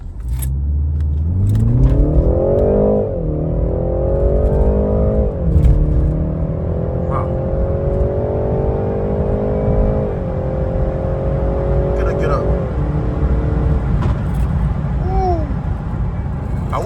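A BMW 330i engine roars loudly as it accelerates hard at night in Germany, pitch climbing through several gear shifts with a steady droning pull between them.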